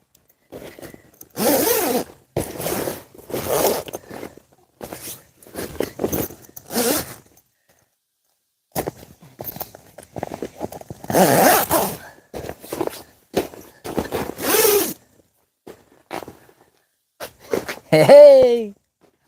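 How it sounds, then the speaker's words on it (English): Zipper on a KingCamp tent being zipped, a run of quick rasping zip strokes in short bursts with pauses between, close and crisp, ending with a brief higher sound. "This zips up really simple."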